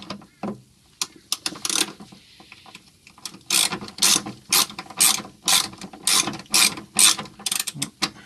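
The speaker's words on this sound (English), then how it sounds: "And then torque it up with the ratchet." A ratchet tightens the rear sway bar bushing bolt on a 1999 Subaru WRX, producing repeated close, crisp clicking bursts in an uneven rhythm with short pauses between strokes.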